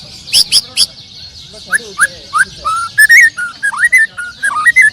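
A white-rumped shama (murai batu) sings a series of bright, varied whistled phrases with quick rising and falling notes, loud and close. The song follows a few sharp chirps and a brief spoken remark.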